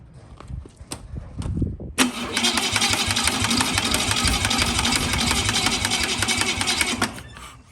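An SA-200 welder's engine, with choke set and a weak battery, cranks after a few scattered knocks and clicks. The starter whirs in a loud, rapid, steady grind for about five seconds and then stops without catching.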